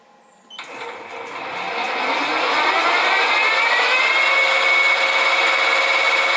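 An aluminium-type milling cutter taking a fine cut in stainless steel, a steady high, whining metal-cutting noise that builds after a sharp start and holds loud and continuous.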